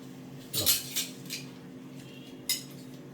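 Steel cutlery clinks and rattles in a short cluster, then one more clink a moment later, close by over a low hum.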